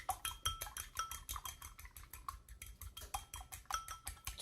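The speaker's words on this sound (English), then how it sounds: "Just like the sound of beating eggs." Eggs are beaten for an egg wash with a utensil clicking quickly and steadily against a bowl, close and quiet, with no talking.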